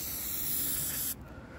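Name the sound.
spray can spraying a coat of paint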